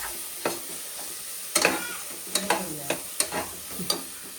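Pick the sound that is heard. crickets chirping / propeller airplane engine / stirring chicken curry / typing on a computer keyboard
stirring chicken curry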